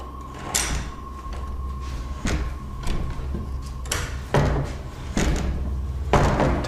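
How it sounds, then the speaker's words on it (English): A door is pushed open, giving a series of dull knocks, bumps and scraping thuds spread across several seconds over a low steady hum, with no clear talking. "They push this door open, but are too scared to enter."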